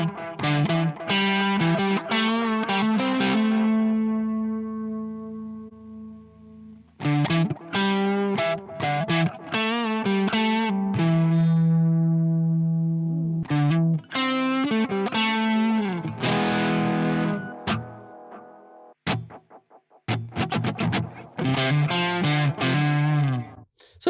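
Electric guitar through the Blackstar Jared James Nichols plugin with its tape delay switched on: distorted notes and chords played alone in phrases, each followed by subtle repeats that fade out, with short pauses between phrases.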